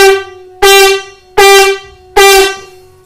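A conch shell (shankh) blown in three short, forceful blasts, each a loud, bright horn-like tone that starts abruptly and fades, with brief pauses between them and no other sound.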